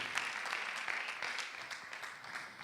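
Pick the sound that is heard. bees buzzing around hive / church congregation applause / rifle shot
church congregation applause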